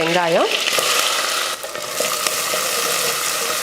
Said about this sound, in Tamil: எண்ணெய் காஞ்சதுமே கடுகு பொரிஞ்சதுமே கொஞ்சம் கருவேப்பிலை